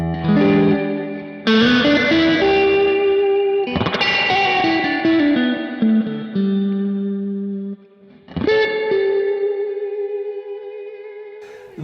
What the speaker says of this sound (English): and this is the Spring Reverb,